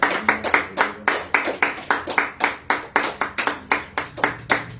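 A church congregation claps in acclamation during a French-language service, a crowd of hands striking in a brisk, steady rhythm of loud, close bursts.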